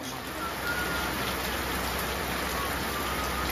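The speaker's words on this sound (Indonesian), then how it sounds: "namun cuaca tak begitu bersahabat dan hujan" Morning rain pours over Lewoleba on Lembata island, Indonesia, a dense, even hiss that stays loud and unbroken throughout, with no one speaking.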